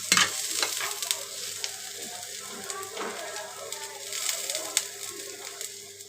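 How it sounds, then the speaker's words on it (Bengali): Onion, garlic and green chili fry in a pan with a steady, close sizzle, broken by occasional stirring scrapes and taps against the pan. "আমার পেঁয়াজ রসুন কাঁচামরিচ ভাজা হয়ে গিয়েছে"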